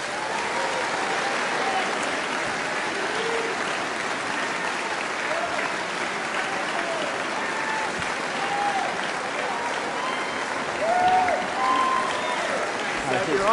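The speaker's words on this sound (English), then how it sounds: "please give a very large round of applause for the Right Honourable Rishi Sunak MP" Sustained audience applause at election hustings in Exeter as candidate Rishi Sunak is welcomed to the stage, steady dense clapping throughout with a swell near the end and faint voices mixed in.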